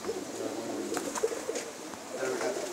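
Pigeons coo in a small bird loft, soft repeated calls rising over steady background hiss, with a few faint chirps and some distant murmuring voices.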